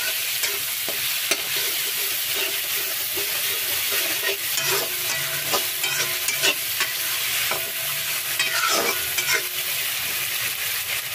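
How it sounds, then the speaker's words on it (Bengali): Onion, garlic, ginger and tomato fry in a pan while being stirred, giving a continuous close sizzle punctuated by repeated scraping stirs, with no voices. "এবার এটাকে একটু ভালো করে ভেজে নেব"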